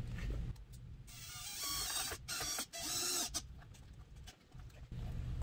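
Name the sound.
driving a number 10 screw with a Phillips bit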